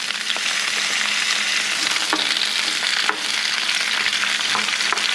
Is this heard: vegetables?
yes